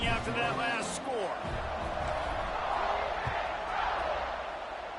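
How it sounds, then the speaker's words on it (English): A stadium crowd in a football video game buzzes with a steady, loud roar after a score, ongoing throughout under a commentator's voice. "this crowd is buzzing after that last score."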